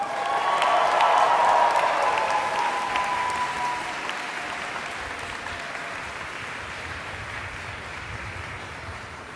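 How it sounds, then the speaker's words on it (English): Graduates at a university convocation ceremony applaud their families, friends, faculty and staff, a large hall full of sustained clapping and some cheering, loudest at first and gradually settling into a steady wash. "I invite you, the members of the graduating class, to reciprocate by applauding your family, friends, faculty and staff"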